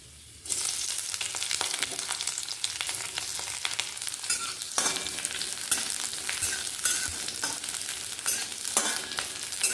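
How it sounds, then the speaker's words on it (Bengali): Chopped onion sizzles briefly in a hot pan while cooking a child's lunchbox vegetable dish. A loud, steady frying hiss starts abruptly, with scraping stir strokes now and then and no talking. "জাস্ট কয়েক সেকেন্ডের জন্য পেঁয়াজটা দিয়ে দেবো"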